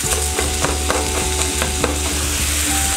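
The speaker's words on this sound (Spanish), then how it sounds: "ponemos la carne y la vamos a deshacer para que no nos queden grumos grandes" Ground meat with softened onion and garlic being stirred and broken up in a hot pan, a spoon scraping in quick repeated strokes over a constant sizzle, close and loud, with no voices.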